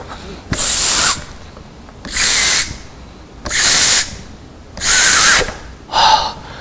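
A person blows hard, again and again, into a balloon placed inside a plastic bottle, making five loud, forceful hissing rushes of air separated by short pauses.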